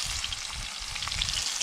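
Shrimp fry in hot oil over a gas stove outdoors by a river, a close, steady crackling sizzle with a faint stir now and then and no voices.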